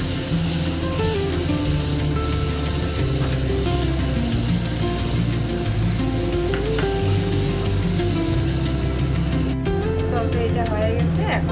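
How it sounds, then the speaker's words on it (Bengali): Raisins hiss and sizzle loudly in hot oil and egg curry sauce, a dense steady frying crackle with occasional stirring scrapes throughout. "কিশমিশটা এখন দিয়ে দিচ্ছি, দিয়ে একটু কষাবো"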